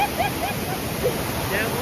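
Loud, steady rush of a waterfall at Jambhe Dam, a continuous broadband roar close by with no distinct breaks.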